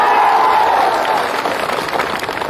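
A crowd at a political rally applauds and cheers in a loud, dense wash of clapping that fades slightly toward the end.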